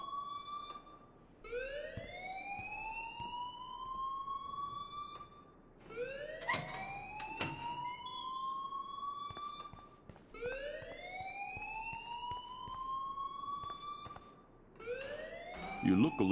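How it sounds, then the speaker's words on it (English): An alarm wails in the video game Life is Strange, a loud rising siren-like sweep repeating about every four seconds, with faint background noise underneath. "please turn off that alarm"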